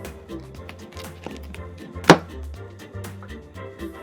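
A knife chops into a watermelon with one sharp, loud crack, surrounded by softer thuds and cutting noises from the rind being sliced by hand.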